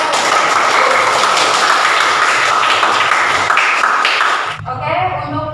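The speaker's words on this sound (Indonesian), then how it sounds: "Tepuk tangan yang meriah." Classroom applause from a group of students, a dense, steady patter of many hands clapping for several seconds before stopping abruptly, after which a voice briefly speaks.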